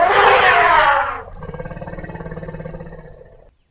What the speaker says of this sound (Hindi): तभी वहाँ एक हाथी की सवारी वाला आता है।